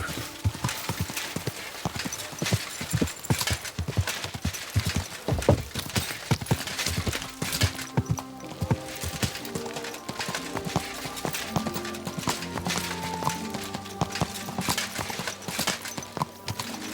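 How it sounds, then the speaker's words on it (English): Horse galloping in the video game Kingdom Come: Deliverance II, rapid hoof clip-clops drumming close and loud with occasional snorts and a neigh, while a musical score with sustained tones rises underneath in the later part. "Hey! Your horse nearly tumbled me!"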